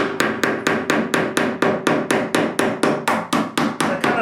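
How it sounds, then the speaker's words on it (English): A hammer strikes a chisel while a hinge mortise is cut into a blank door, giving a fast, even run of about sixteen sharp, close knocks. "I can chisel all the way around this section here by simply just starting anywhere I want to."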